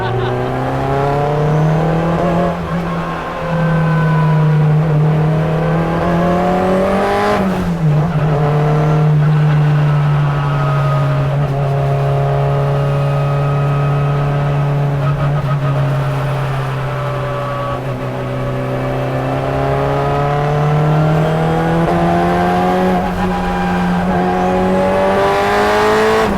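A Honda Integra runs hard on a highway, with a loud, steady engine drone that holds pitch for long stretches and dips briefly partway through. Sustained tire squeal blends into the engine roar, heard up close from inside the car.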